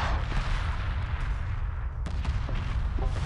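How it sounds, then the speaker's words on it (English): Ion cannons firing during a Homeworld Remastered 2v2 space battle, a dense barrage of booming, crackling blasts layered over a continuous low rumble, with several sharp hits standing out. "Some ion cannons on the field now."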